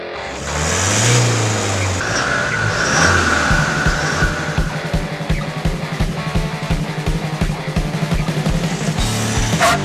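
A 2015 Toyota Hilux pickup pulls away, engine rumbling steadily up close with a regular low pulsing as it gathers speed, tires rolling beneath.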